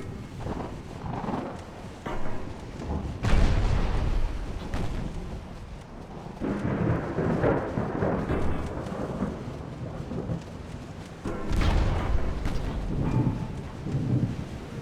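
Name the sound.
rain and thunder in video game Ultimate Admiral Dreadnoughts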